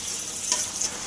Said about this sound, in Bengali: চালটা হচ্ছে ভালো করে একটু ভেজে নিব